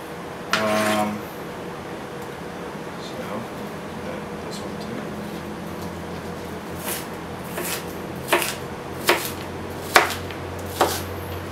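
A knife chops ingredients for beef sisig on a board: after a brief clatter near the start, a quiet stretch gives way to about five sharp, evenly spaced knocks, close and distinct over a low background hum.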